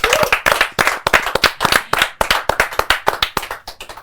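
Scattered individual hand claps from an audience at a Gujarati film talk event for the film Karkhanu, distinct sharp claps in an uneven rhythm, close and loud, with no voices.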